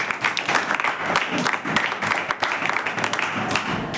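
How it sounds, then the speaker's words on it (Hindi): Students in a classroom applauding a classmate, a loud, dense burst of many hands clapping that continues for several seconds at close range. "जोरदार तालियां अनस के लिए।"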